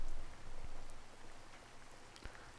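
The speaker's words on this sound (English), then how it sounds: "It's raining like hell outside." Heavy rain in the Love 15 visual novel game falls as a steady, soft hiss of drops, faint and continuous with a couple of brief louder ticks, and no voices.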